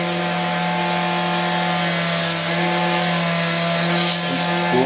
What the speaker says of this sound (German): Dazu nehme ich meinen Bohrer.